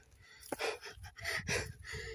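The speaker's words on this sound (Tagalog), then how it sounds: "Hingal kabayo ako." A hiker breathes hard on a hot Hong Kong mountain trail, with two or three heavy, gasping breaths close to the mic over a low background rumble.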